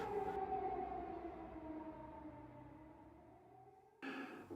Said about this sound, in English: that's the Greenfield tornado sirens going off.